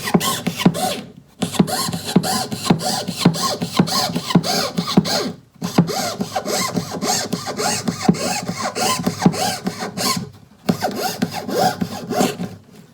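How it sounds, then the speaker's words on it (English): Steady back-and-forth strokes of a hand saw cutting wood, close up, with two brief pauses between runs of rasping strokes. "and then you can start sawing again."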